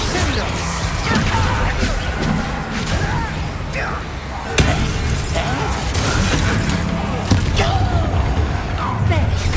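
A Bombarda spell explosion in Hogwarts Legacy lands as a sharp crash amid busy game effects, with clatter and impacts throughout and voices talking over the action.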